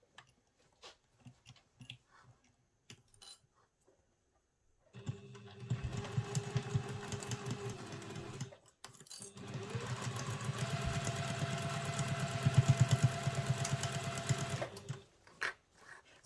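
A sewing machine stitches a travel satchel in two bursts, one short and one longer, with a steady close whirring hum and sparse handling clicks and pauses between them.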